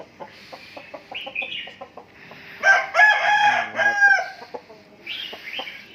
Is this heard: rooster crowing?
yes